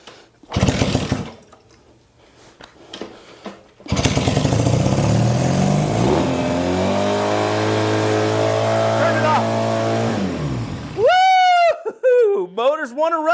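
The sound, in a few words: Honda CB160 motorcycle engine running, revving high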